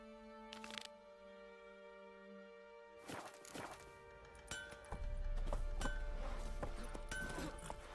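Horse hooves in The Witcher 3: Wild Hunt, a sustained musical drone giving way to a rapid clip-clop of hoofbeats that grows busier and louder over rumbling ground noise, with a brief whinny-like burst early on.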